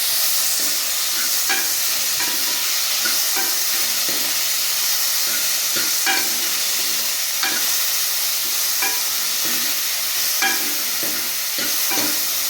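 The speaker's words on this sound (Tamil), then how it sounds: "தக்காளி வதங்கிட்டு நல்லா வதங்கணும்" Tomatoes fry in a pan over softened onions for an eggplant dish, giving a constant hissing sizzle with intermittent sharp taps and scrapes from stirring, close and without speech.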